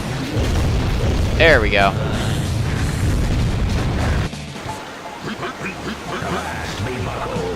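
Buildings crumbling and explosions in the Rampage Total Destruction video game, with dense rumbling booms and crashing destruction, a monster-like cry early on, then quieter debris noise while someone briefly speaks.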